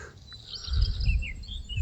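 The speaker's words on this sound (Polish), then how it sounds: "Śpiew ptaków." Faint bird calls chirp and whistle through the air, short high notes over a low rumbling background, with no voices.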